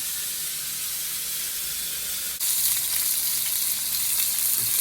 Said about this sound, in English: Gotta put the steak on.